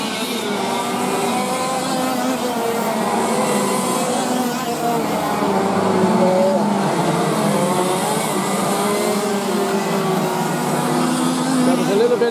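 Race cars run on a circuit during a light heat under yellow-flag conditions, producing a loud, continuous drone of engines with shifting pitch and a commentator talking over it.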